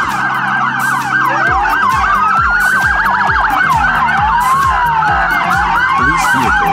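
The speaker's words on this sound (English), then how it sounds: "Police car." A police siren wails loudly and continuously, its pitch sweeping up and down in overlapping cycles, with a rapid pulsing rumble of engine or horn beneath it.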